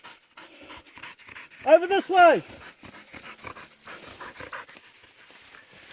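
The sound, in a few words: pig-hunting dog panting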